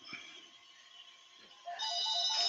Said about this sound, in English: Oh, bloody phone